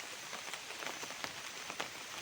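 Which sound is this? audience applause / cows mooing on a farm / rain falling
rain falling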